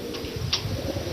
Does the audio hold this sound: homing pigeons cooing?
yes